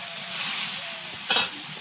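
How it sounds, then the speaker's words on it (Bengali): Potatoes stirred and fried in a pan, a steady close sizzle running throughout with one brief louder scrape of stirring near the end, no voices. "আলুটাকে ভালো করে কষিয়ে নিতে হবে"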